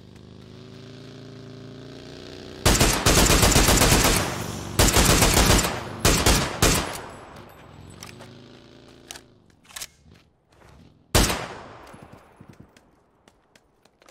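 An SLR fired full auto in PUBG unleashes long, loud bursts of rapid gunfire at close range. A final short burst follows, with sharp single reports and echoing tails in between.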